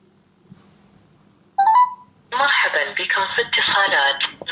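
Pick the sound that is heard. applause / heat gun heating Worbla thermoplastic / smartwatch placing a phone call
smartwatch placing a phone call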